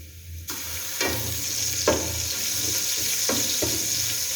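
Loud, steady sizzling of ginger-garlic paste frying in a hot pan with browned onions, with occasional scraping stirs and clinks breaking through the crackle.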